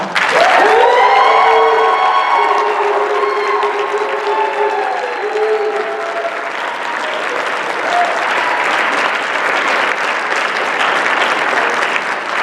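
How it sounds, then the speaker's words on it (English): An audience at a district political debate breaks into loud applause with cheers and whoops rising over the clapping at first, then settling into steady continuous clapping from a large crowd. "another round of applause for these fantastic guests"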